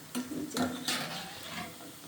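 Shrimp pakora fry in oil in a pan as they are turned, with a few quick spatula scrapes and clinks over a low, continuous sizzle.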